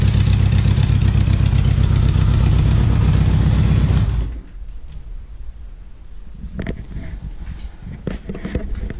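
A Honda GL1000 motorcycle engine runs loud and steady at close range for about four seconds, then cuts off abruptly, leaving quiet shop sounds and a few faint clicks.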